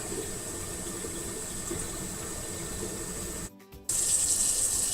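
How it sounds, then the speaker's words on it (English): Steady running water and gurgling drains down a kitchen sink, continuous and close, with a brief near-silent gap before the flow resumes slightly louder. "You probably can hear the water going down right now."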